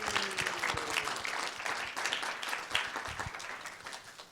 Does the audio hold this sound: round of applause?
yes